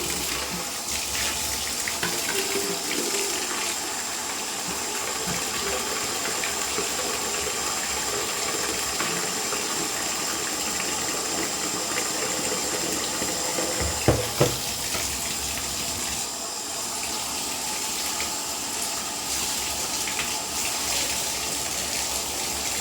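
A water tap runs steadily while tie-dyed fabric is rinsed, a continuous broadband rush with faint clinks and handling sounds partway through, and no talking.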